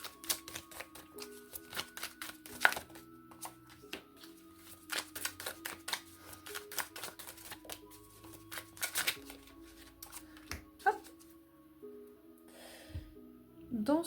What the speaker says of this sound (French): Je vais tirer 2 cartes de chaque.